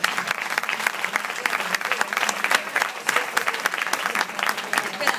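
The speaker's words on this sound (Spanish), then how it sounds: "vamos a aplaudir primero" Audience applause at a cultural event in a cultural centre in Pozuelo: lively, close clapping with sharp individual claps over a sustained crowd wash, lasting the whole stretch.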